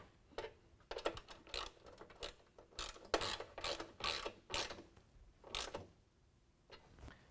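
A 13mm ratchet tightens a nerf bar bracket bolt on a 2019 Ram 1500, giving quick runs of clicking pawl strokes, close and fairly faint.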